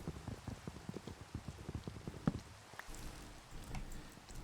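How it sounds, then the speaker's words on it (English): Rain in the Minecraft video game patters steadily as a soft, irregular drumming of drops, fairly faint, with no voices. "Big Al turning off the rain"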